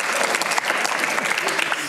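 Theatre audience at a pre-performance talk breaking into steady, dense applause, many hands clapping together at a strong, even level throughout.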